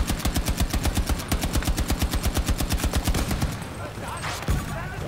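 Rapid automatic gunfire comes from a BF1942-era weapon in the video game Battlefield 2042, with a steady stream of close, punchy shots for about three and a half seconds, then quieter game sounds and a single thump.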